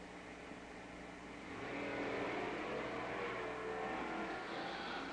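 Pontiac Firebird stock drag cars launching side by side, a 400-cubic-inch car in one lane and a 455 in the other, their engine roar swelling suddenly and holding loud and steady as they pull away.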